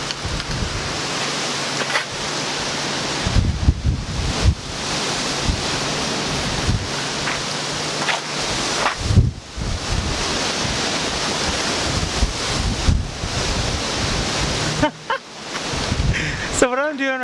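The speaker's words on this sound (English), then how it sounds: "Okay, the wind is ridiculous right now." Strong wind blows outdoors, loudly and steadily buffeting the microphone, with gusts rising and falling throughout and a few faint voices underneath.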